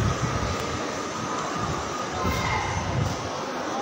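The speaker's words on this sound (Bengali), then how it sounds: "এটা কলকাতার শিয়ালদা রেলওয়ে স্টেশনে আছি।" Busy ambience at Sealdah railway station in Kolkata: a dense, loud, steady rumble and hum of trains and crowd filling the whole space without a break.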